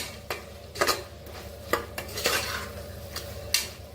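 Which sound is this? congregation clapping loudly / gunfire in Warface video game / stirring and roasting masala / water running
stirring and roasting masala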